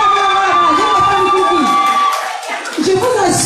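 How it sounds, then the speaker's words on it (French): A crowd cheers and shouts loudly as a lady, the national women's president of the MRC, arrives, with whoops and raised voices rolling on almost continuously and dipping briefly midway. "Donc vous avez applaudi pour cette dame-là"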